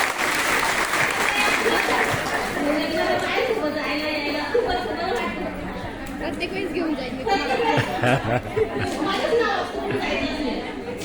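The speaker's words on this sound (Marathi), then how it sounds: "जोरदार टाळ्या" Loud, sustained applause from an audience at a gathering of ASHA workers, steady across the whole stretch with crowd chatter and voices mixed in.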